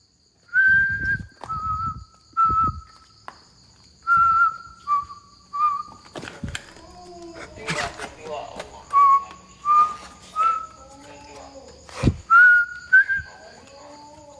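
A person whistles a series of short two-note and sliding calls in an abandoned hospital, with pauses between phrases, some low rustling and footsteps, and a couple of sharp knocks.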